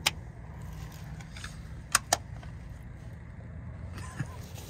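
Keys jingle in a few short metallic bursts over the low idling rumble of a 1972 Dodge Coronet Custom with a slant six engine, with quiet stretches between the clinks.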